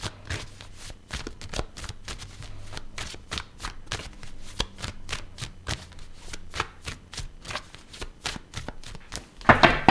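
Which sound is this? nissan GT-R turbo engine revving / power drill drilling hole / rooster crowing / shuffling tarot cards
shuffling tarot cards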